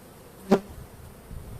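Honeybees around an opened hive during a spring brood inspection. One close bee buzzes briefly past as a quick rising and fading drone, with a faint insect hum around it.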